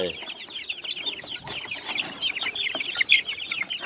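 A busy flock of gamecock hens and roosters clucks and chatters nonstop, overlapping calls with a sharper squawk near the end, fairly close and without speech.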